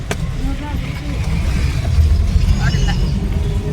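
Road traffic rumbles steadily with engines and passing vehicles close by, a constant loud low roar with a brief horn-like tone, while people talk over it.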